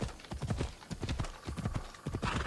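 Horse hooves clip-clop in Assassin's Creed Odyssey, a quick, steady run of close, distinct hoof strikes at a trotting pace, fairly quiet overall.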